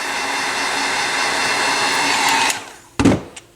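A heat tool blows a steady, airy whirring hiss at close range while softening glue on the side panels of a Pioneer SX-550 stereo receiver, running continuously for about two and a half seconds before shutting off, followed by a few sharp knocks.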